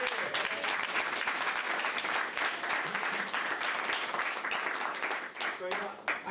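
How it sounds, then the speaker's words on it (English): An audience applauds at a talk, a sustained burst of dense clapping that holds steady for several seconds before thinning and fading out near the end. "So I'm going to ask you for one more round of applause for her."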